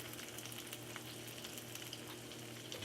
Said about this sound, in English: We're going to fry these